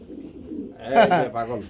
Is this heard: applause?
no